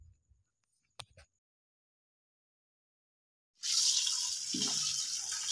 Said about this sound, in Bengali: এবার আমি মাংসগুলোকে ভালো করে ধুয়ে নিচ্ছি।